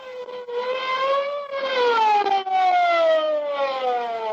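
A police car siren wails loudly and close, its pitch sweeping up and down in long smooth cycles with no voices over it.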